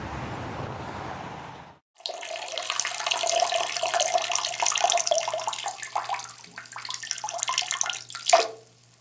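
Liquid pours steadily into a cup in a video game, a continuous close splashing fill lasting several seconds that thins and ends with a brief burst, preceded by a short hiss.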